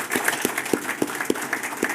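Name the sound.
audience applause for panelists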